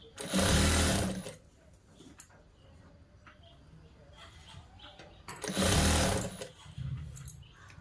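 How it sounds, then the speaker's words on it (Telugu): A sewing machine stitches a boys' school uniform shirt in two loud, close bursts of rapid whirring, separated by a quieter stretch of fabric handling and faint background sounds. "నేను ఏ విధంగా అయితే వీడియోలో మలుసుకుంటూ కుడుతున్నానో అదే విధంగా కుట్టుకోవాలండి"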